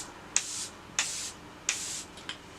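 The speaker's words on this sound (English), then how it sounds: "spray that all over the face, let it dry" Setting spray misted over a face after makeup: three distinct aerosol bursts, each a short hissing puff about half a second long, followed by a couple of quicker, fainter spritzes, close and alone with no talk.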